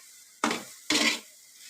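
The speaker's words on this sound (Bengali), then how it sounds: "এই তো আমার পেঁয়াজটাকে বেজে নিচ্ছি।" Onions are fried in a pan while a spatula scrapes through them twice in quick succession. The two short, close bursts of clatter stand alone with nothing else heard between them.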